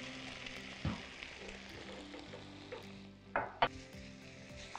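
Minced meat for a bolognese sauce fries in a pan with a steady low sizzle, broken by a few clinks and stirring knocks from the pan; no one speaks.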